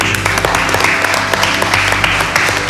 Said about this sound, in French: Bravo, le gagnant du tournoi,